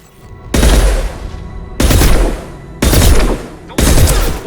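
Four loud, sharp sniper rifle shots from the Mass Effect 2 video game on PC, each a booming crack with a short decaying tail, spaced about a second apart.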